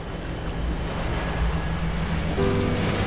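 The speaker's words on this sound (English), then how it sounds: "The street had turned into a raging river." A flooded street turned into a raging river of caustic red sludge from an aluminium plant disaster, heard as a loud, continuous rushing torrent that swells slightly toward the end, with no voices.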